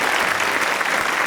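Studio audience on the French TV talk show Bistro Libertés applauds in a steady, dense burst of clapping that fills the whole short moment, with no voices over it.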